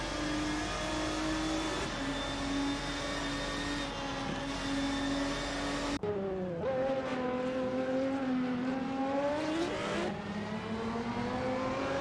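GTR race cars at Misano scream past with high, sustained engine notes that rise and fall through gear changes, loud and continuous with no talk.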